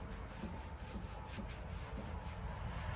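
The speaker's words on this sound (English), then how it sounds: "Not really worried about really scrubbing the wheel, just getting the residual off with one towel." A terry towel rubs residual polish off a polished semi truck wheel in a shop, a soft, steady scrubbing swish with faint rhythmic strokes, quiet and close with no talk.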